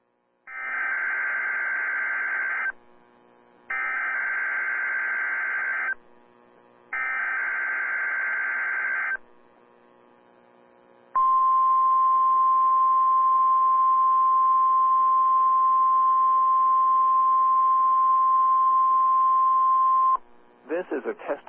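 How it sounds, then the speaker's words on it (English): A NOAA Weather Radio All Hazards warning alarm test from the National Weather Service plays three loud, buzzy data bursts, then a long, steady, piercing alert tone lasting about nine seconds before cutting off into a brief stutter. "This is a test of the National Weather Service NOAA Weather Radio All Hazards Warning Alarm System"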